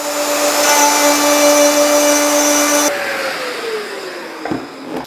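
A Festool OF 1010 router plunge-cutting wood gives a loud, steady high whine for about three seconds, then spins down with a falling pitch and ends in a couple of sharp clunks.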